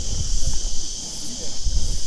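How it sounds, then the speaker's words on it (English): A grasshopper chirps with a steady high insect buzz outdoors on a rally training course, while low rustling and handling noises come and go beneath it. "Now there's a grasshopper."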